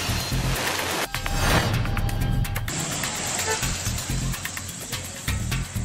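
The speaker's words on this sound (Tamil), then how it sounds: "அனைத்து பகுதிகளிலும் மழை பெய்தது" Steady rain falls across the area with a continuous hiss on surfaces, close and fairly loud, with passing traffic mixed into the wash.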